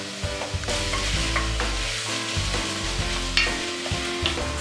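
Steady sizzling and crackling of diced bacon frying in a hot pan, with occasional stirring scrapes, close up and continuous.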